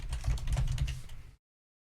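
Rapid clicking of keys on a computer keyboard, a quick close burst of typing lasting just over a second before stopping abruptly.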